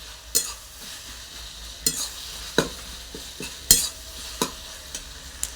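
A spoon stirs spiced cabbage for khichuri in a sizzling pan, with sharp scrapes and knocks every second or so over a low, steady fry, heard up close with no voices.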